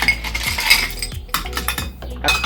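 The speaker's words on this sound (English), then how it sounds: "And then get 1 scoop of ice." Ice cubes clink and knock into a cocktail glass over muddled mint in a lavender bourbon drink, a quick series of bright, close ringing taps with short pauses between them.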